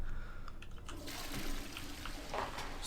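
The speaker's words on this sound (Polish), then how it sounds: "Spuśćmy wodę i idziemy dalej." A toilet flushing in the video game Hogwarts Legacy: a quiet, brief rush of gurgling, swirling water, soft and steady with a faint rise near the end.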